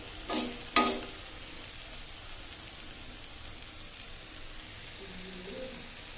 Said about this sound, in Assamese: লাহেকৈ ভাজি ভাজি গৈ থাকিম